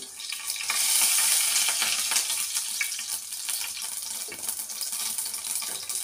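Mustard seeds crackle and sizzle loudly in hot oil for a ridge gourd chutney, a dense, steady hiss with fine popping that carries on throughout without any talk.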